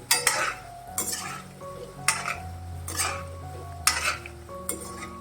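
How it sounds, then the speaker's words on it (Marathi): Cabbage manchurian balls fry in hot oil while a spoon gently turns them, giving clinking scrapes roughly once a second over a steady sizzle, with faint music underneath. "अलगद हाताने, हलक्या हाताने असं गोळे आपल्या हलवत राहायचे कोबी मंचुरियनचे."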